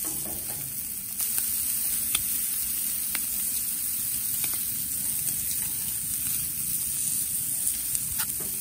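Shrimp sizzle steadily on a hot Big Green Egg grill as they are flipped, a loud, continuous frying hiss with faint clicks of handling throughout.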